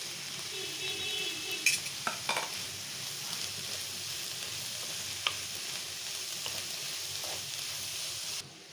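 Chopped tomatoes and vegetables sizzle steadily in a pan for a vegetable soup, with a few sharp clinks of a spoon stirring against the metal scattered through the frying hiss.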